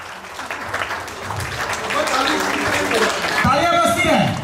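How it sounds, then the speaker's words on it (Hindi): A crowd at a Republic Day poetry recital claps steadily, swelling into a full round of applause while a voice carries on speaking over it. "तालियां बजती रहें।"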